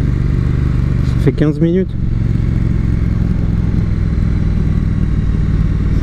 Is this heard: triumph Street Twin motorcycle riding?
yes